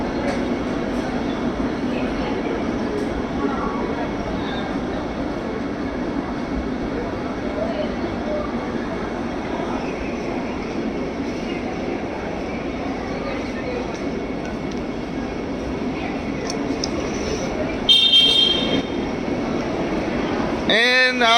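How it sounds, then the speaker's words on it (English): Train at Chennai railway station in India in the early morning, a steady loud rumble of rail carriages with a brief squeal of metal near the end. "This is the train I was on."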